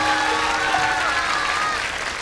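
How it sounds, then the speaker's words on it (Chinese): An audience claps steadily for a speaker being introduced, dense, continuous applause that fills the room and tapers slightly at the end. "掌声送给他。"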